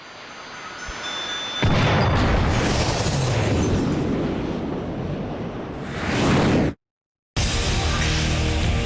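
A tank-piercing rifle shot in Killer7 on GameCube, a huge booming blast that rolls into a long, loud roaring rumble before cutting off abruptly and resuming.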